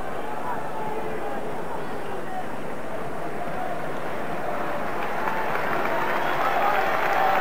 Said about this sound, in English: A very warm round of applause from the Rangers supporters